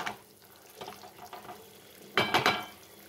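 Dry pasta tumbles into hot water in a pan with a short clattering splash near the end, after faint kitchen scrapes and light stirring sounds, with nobody speaking.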